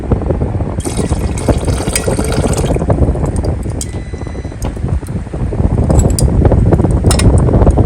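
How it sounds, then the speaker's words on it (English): Nitric acid is poured onto gold of mixed carat in a refining vessel, giving a continuous loud fizzing hiss with liquid splashing throughout. "So I'm going to add some nitric now"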